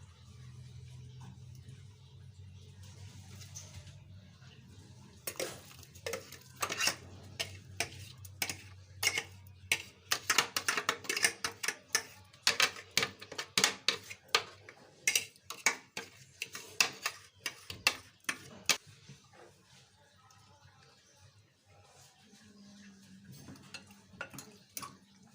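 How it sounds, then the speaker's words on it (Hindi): A spoon scrapes and clinks against a pot as ground masala is worked into pasanda meat, a Bihari pasanda dish. Quiet at first, the sound builds into a dense run of irregular metallic taps and scrapes, then eases off. "अब हम इनको पसंदों में मिक्स करेंगे"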